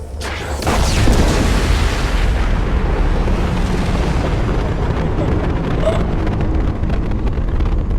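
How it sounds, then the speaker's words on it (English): A huge explosion in the video game Mass Effect Legendary Edition erupts with a sudden blast that swells into a loud, sustained roaring rumble, continuing for several seconds with no talk over it. "It's going to explode."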